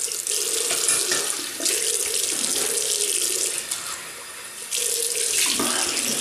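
A water tap runs steadily into a sink while alum and luxury shaving soap are rinsed off, a continuous close splashing flow with slight changes in intensity and a brief dip before it surges again.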